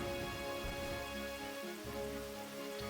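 Heavy rain in the Pokémon White video game, a dense continuous hiss of downpour that stays steady and fairly loud throughout, with no voices.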